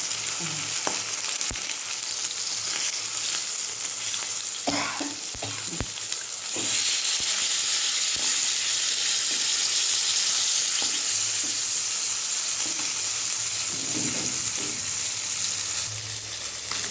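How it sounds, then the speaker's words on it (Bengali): White cumin seeds tempering in hot oil in a pan where fish has been fried, giving a steady close sizzle with scattered crackles and a few stirring scrapes, no voices. "জিরে, সাদা জিরে আমি ফোড়ন দেবো"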